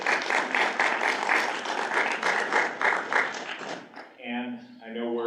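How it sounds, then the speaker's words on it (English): Applause from an audience at a Duluth Public Schools committee meeting, a steady roomful of clapping lasting several seconds before fading as a voice begins speaking. "let's give her a round of applause"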